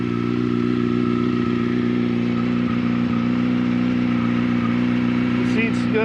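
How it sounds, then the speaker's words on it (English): A 2005 Yamaha R6 sport motorcycle runs close by, its engine and exhaust holding a steady, loud buzzing drone with little change in pitch. "I'll give it some revs just so you can hear the exhaust"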